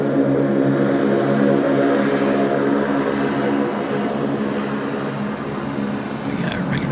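A luxury charter aircraft passes at Sydney Airport with a loud, steady engine roar and drone that fills the whole stretch and eases slightly toward the end.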